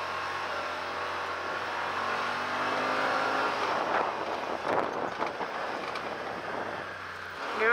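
A 2018 Yamaha Wolverine X4 SE side-by-side drives over big dirt whoops, its engine droning steadily with a mid-clip surge of revving and rough bumping, heard from inside the vehicle with no talk.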